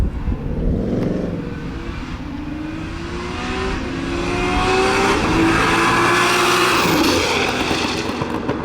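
A Barra-engined Ford GT350 making a drag strip pass, its engine revving hard and climbing through fast shifts, loud and close with a steady roar building toward the end.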